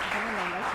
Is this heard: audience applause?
yes